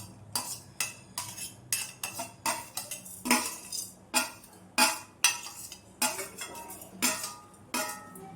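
Cumin seeds, fennel and black pepper dry-roasting in a small metal tempering ladle, stirred with a spoon that gives repeated light metallic scrapes and clinks in a steady, uneven rhythm, close and fairly quiet with no talking.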